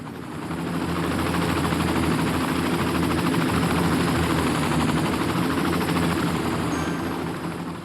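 Helicopters in the city-building game Cities: Skylines produce a steady, loud rotor whir and engine drone that swells in and holds without a break, with no talking over it.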